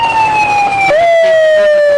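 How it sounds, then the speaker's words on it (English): A loud, close fire truck siren at a July 4 parade in Alburg wails in a long tone that drops slightly in pitch, then steps lower and holds. "They have somebody blowing a siren while they're trying to play their music."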